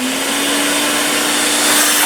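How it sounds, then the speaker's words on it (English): A vacuum cleaner runs steadily and loudly nearby during sanding work, a constant whooshing roar with a fixed motor whine and no talk over it. "Obviously I'm using a vacuum cleaner."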